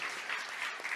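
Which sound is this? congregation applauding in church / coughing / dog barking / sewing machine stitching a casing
congregation applauding in church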